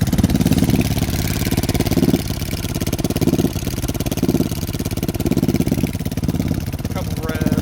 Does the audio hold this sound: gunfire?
no